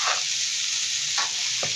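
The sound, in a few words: food frying in a pan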